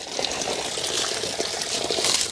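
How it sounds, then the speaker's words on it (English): Water pours into a roof gutter and flows through leaves and debris over a gutter guard, a continuous bright gushing and splashing trickle, close and fairly loud, with no voices. "I can fill it up and water will always flow through the leaves, through the debris"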